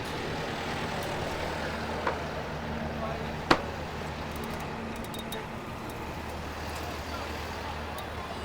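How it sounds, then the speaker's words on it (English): Road traffic builds into a jam on Eglinton Avenue East in Toronto, a constant low rumble of idling cars, trucks and buses. A faint brake hiss comes through, and a sharp click stands out once. "This buildup of traffic here."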